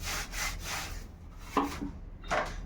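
A kitchen tap handle is scrubbed clean with a few close, rasping back-and-forth strokes, broken by short pauses, with no one talking.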